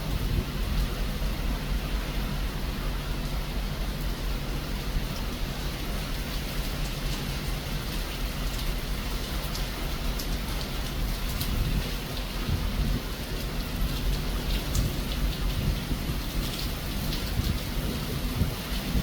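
Heavy rain from a Pacific squall pours down on a cruise ship balcony over the ocean in a dense, steady hiss, with low rumbling underneath and occasional sharper drops, continuous and enveloping.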